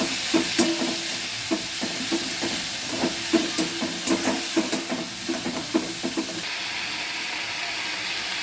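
Onions fry in a pan for ghugni while a spatula stirs them in quick, regular scraping strokes over a soft hiss. The stirring stops after about six seconds, leaving only the faint sizzle.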